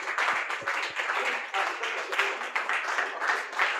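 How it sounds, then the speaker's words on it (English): Steady applause from a conference audience, many hands clapping in a dense, continuous patter that swells and dips slightly over a few seconds, heard alone without talk. "Please, a round of applause for all of our facilitators and speakers."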